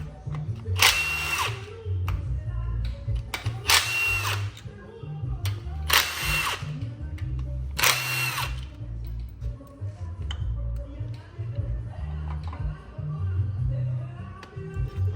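Four loud bursts of a power tool, each about a second long, as the four 10mm bolts holding the old oil pump are backed out of a stock LS 6.2 engine. Low mechanical rumble sits between the bursts, with no talking.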